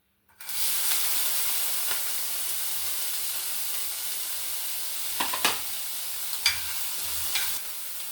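Small chopped onions sizzle steadily in a hot pan for Kenyan-style silver fish, a continuous bright hiss with a few louder stir clatters toward the end, no voices.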